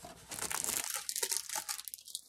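Plastic wrapping on a boxed movie set crinkles and tears close by during unboxing, a short burst of dry rustling and ripping that fades toward the end.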